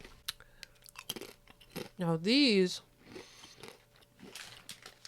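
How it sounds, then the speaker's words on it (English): Crisp crunching of Puerto Rican plantain chips being bitten and chewed close to the mic, a few sharp crackles between brief spoken words and a short tonal sound. "Very satisfying crunch. Let's try one more plátano."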